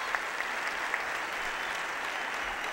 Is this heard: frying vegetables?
no